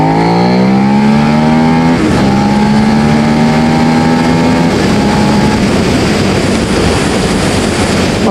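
A Suzuki SV650 motorcycle's engine pulls hard and loud while riding, revving up through gears with rising tones and a brief shift dip, then a dense roar mixed with heavy wind noise.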